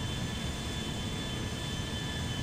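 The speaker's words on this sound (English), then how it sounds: "Engine off. So those are going to wind down." Airbus A330-300 jet engines winding down after shutdown in GTA V, a steady loud whine and broadband roar that holds at a constant level with no talk over it.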